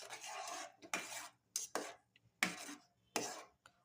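Semolina (rava) stirred in a pan for vegetable upma: about six separate scraping, rasping strokes of a spoon against the pan, close and fairly quiet, with short pauses between them and no talking.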